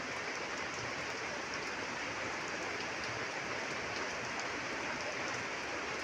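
Steady, even rain hisses across a wide band with no pauses, a dense soft wash that holds at an even level throughout, with no voices.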